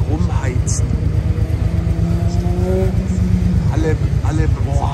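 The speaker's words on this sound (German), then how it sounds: "Die Motorräder, überall drücken sie sich durch." Busy city traffic in Genoa with motorcycles weaving between cars, steady engine rumble and passing revs heard from inside a vehicle, with someone talking over it.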